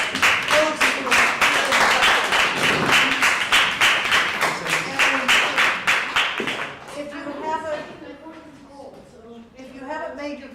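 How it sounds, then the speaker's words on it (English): An audience at a peace gathering claps steadily for several seconds in a dense, rhythmic round of applause that fades out, followed by a person speaking. "another big round of applause for all of our folks"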